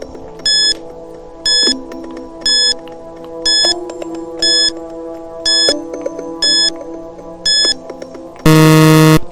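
Quiz countdown timer: a steady tick under a soft background tone, a bright electronic beep roughly once a second, ending in a loud buzzing alarm tone.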